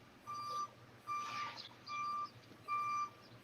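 A vehicle's reversing beeper in an alley sounds four evenly spaced, steady electronic tones, each about half a second long, at moderate volume over a low background hum.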